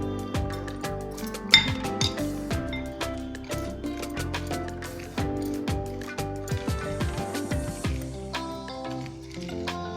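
A spoon clinks against a bowl while a sprouts salad with lemon juice is tossed, with a steady run of light clatter and scraping, close and fairly quiet.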